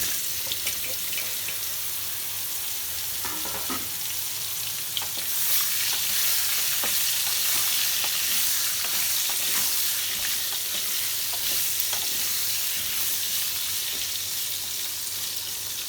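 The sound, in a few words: pumpkin pieces frying in oil with asafoetida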